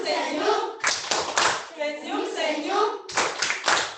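Children clap their hands in short rhythmic bursts during a classroom activity, with a teacher's voice speaking between and over the claps.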